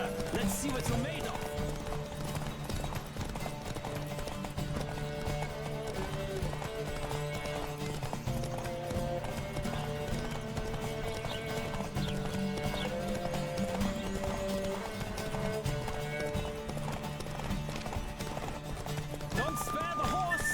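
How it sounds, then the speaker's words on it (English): Steady galloping hoofbeats of a horse racing in The Witcher 3, a continuous quick clip-clop rhythm with occasional whinnies, heard under game dialogue and background music throughout. "Don't spare the horse."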